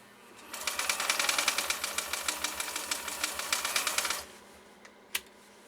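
A 1958 LADA T-132 sewing machine with a 1.1 amp motor runs at moderate speed for about four seconds, giving a close, steady rhythmic stitching clatter. It then stops, followed by a single sharp click.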